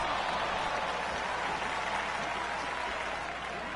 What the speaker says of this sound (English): the fans are clapping